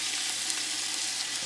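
Short ribs frying on a Blackstone griddle, a steady close hiss of sizzling fat with no other sounds over it.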